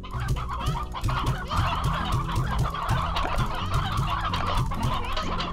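Chickens cluck in a coop in the Slime Rancher video game, a busy overlapping flock of short, repeated clucks, close and fairly loud, continuing without pause.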